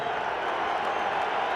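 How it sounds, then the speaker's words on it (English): Football stadium crowd at a Rams at 49ers NFL game in San Francisco, steady broad roar of thousands of fans rising and holding at full volume across the whole moment, with no break. "this crowd climbs into it"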